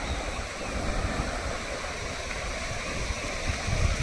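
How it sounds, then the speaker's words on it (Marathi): Rushing water pours into a brimming irrigation canal, the Dimbhe right canal fed by runoff from hillside streams, making a continuous, even roar like a cascade that stays steady throughout. "ओढ्यांचे पाणी त्या कालव्यात उतरून हा कालवा फुटण्याच्या मार्गावर दिसत आहे"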